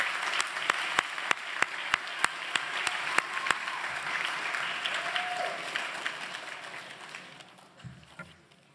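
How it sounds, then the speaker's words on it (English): Applause from an audience at a formal school assembly, starting with a few sharp, distinct claps that grow into a moderate, steady round of clapping from a room full of people and then taper off. "I think he deserves a round of applause for that."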